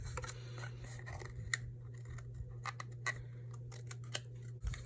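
Scissors trim a paper overhang on a handmade treat box, a quiet series of crisp snips and paper rustles at an irregular pace over a low steady hum.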